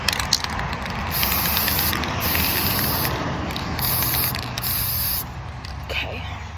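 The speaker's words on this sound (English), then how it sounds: "I'm just spray painting books like every other normal 18-year-old." A spray can hisses in several bursts of a second or so each as book edges are painted outdoors, separated by short pauses, fairly close and steady.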